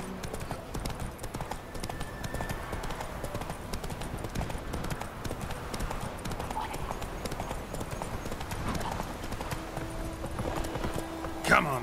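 Roach the horse gallops in The Witcher 3 with a steady, close run of hoof clip-clops over ambient game sound, with a voice speaking briefly.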